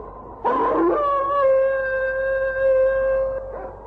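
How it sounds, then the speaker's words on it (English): Sled dogs howling on a winter expedition: one sustained, loud, close howl rising after a short yip and holding a steady wavering tone for about three seconds before fading. "The dogs have found a sled trail, Lee."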